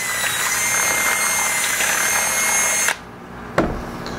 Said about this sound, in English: if it's acrylic, we just ream it out. Just take your time and just ream out the hole.